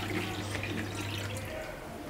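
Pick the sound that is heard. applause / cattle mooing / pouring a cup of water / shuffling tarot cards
pouring a cup of water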